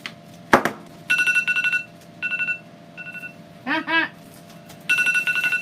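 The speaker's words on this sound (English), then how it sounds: "That's my alarm to make sure I'm over here by now." A phone alarm ringtone goes off in a room during wreath making, sounding as repeated bright electronic chime bursts with short pauses, following a brief knock and over a faint background hum.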